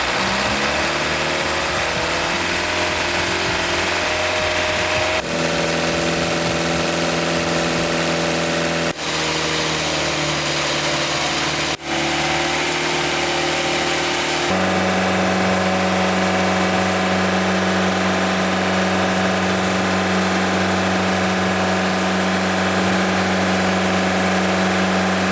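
A diesel engine idles steadily after a 60% load emissions test, a loud continuous low hum with a few abrupt shifts in pitch and tone as the load eases off, alone with no voices.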